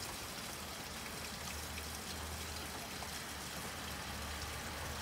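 Steady rain mixed with snow falls in Lille, a constant dense hiss of drops pattering on surfaces with a low rumble underneath, unbroken throughout.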